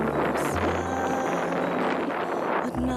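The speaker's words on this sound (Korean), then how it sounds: "어느새 눈발이 날리고 바람 소리는 거칠어집니다" Harsh, roaring wind buffets the microphone continuously in a snowy, frigid northern landscape, a dense steady rush with gusty surges and no pauses.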